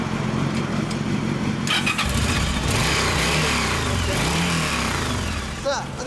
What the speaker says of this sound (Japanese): 次はドラッグスターのエンジンかけ て。